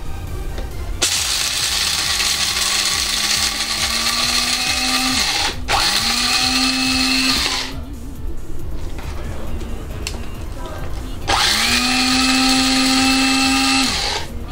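An electric coffee mill grinds coffee beans in three loud, close bursts, each starting with a whirring motor whose pitch climbs as it spins up. The bursts are separated by short pauses.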